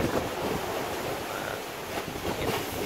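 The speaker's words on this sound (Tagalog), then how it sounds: "Hintayin lang natin malma yung alon." Ocean waves on the Pacific during bad weather make a steady, loud, rushing roar of surf that fills the whole stretch without pause.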